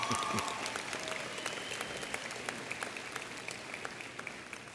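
Scattered applause from a crowd at a university commencement ceremony on St. Thomas, fairly faint and distant, with claps pattering steadily throughout.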